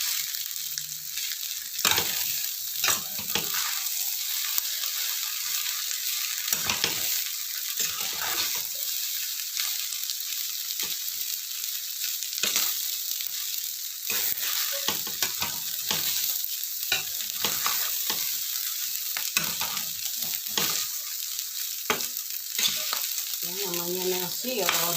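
Rice for nasi goreng with sambal tempe fries in a hot pan with a constant bright sizzle, while a utensil stirs and scrapes it in frequent irregular strokes throughout, close and steady.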